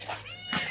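A cat meows twice in quick succession, close and fairly loud, with no talking.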